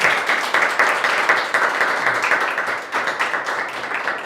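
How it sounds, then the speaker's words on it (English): Audience applause at the close of a talk at a ReScript developer retreat, a dense, steady wash of many hands clapping, moderately loud and continuous with no voices over it. "A round of applause, please."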